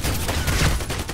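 A sniper rifle's long shot in a video game: one loud, close report with a brief rumbling tail, heard alone without talk.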